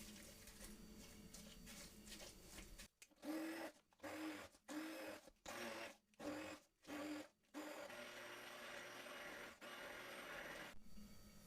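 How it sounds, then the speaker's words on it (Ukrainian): A blender whirs in a series of short, pulsing bursts, then runs steadily, its motor droning close by as it blends a sweet cheese filling with butter and sour cream. "І все перебиваємо блендером."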